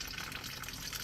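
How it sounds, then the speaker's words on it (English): Dirty water gushes steadily out of a pipe, a faint broadband splashing and rushing flow that stays even and unbroken, with no talk over it. "there's some nasty water coming out of there"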